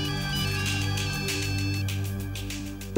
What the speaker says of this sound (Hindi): आस्था का फोन